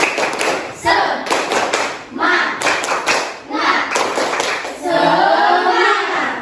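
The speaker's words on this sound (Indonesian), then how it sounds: "Seluruhnya tepuk semangat." A class of standing students doing a rhythmic spirit clap in a classroom, loud grouped claps and slaps in a patterned beat, with children chanting along and a final burst of shouting voices.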